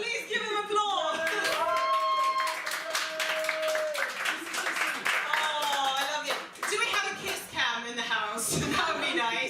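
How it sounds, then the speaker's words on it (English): Scattered clapping from a comedy show audience at a fringe festival, mixed with voices, laughter and cheering, with a few sustained vocal tones over the claps. "Please give him applause!"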